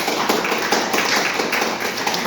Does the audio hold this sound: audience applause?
yes